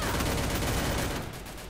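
Rapid automatic gunfire from an MP5-style weapon in a Craftland mobile shooter game, dense continuous bursts filling the clip and easing slightly toward the end, with no talk over it.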